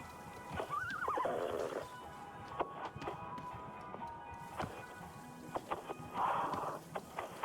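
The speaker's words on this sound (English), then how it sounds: "Hot horsey noise." Horse in the video game Wanderstop gives two neighing whinnies, one early and one near the end, with hoof clip-clops between them, fairly quiet and with no talking.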